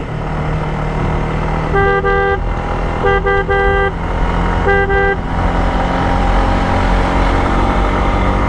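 A Chander Gari jeep on the hilly road to Sajek sounds three short horn blasts, with a steady engine and road rumble continuing underneath throughout.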